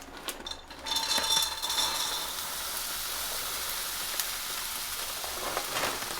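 Vegetables frying in a pan for Chinese fried rice, a steady bright sizzle and hiss that swells as they hit the oil and then continues evenly at moderate volume.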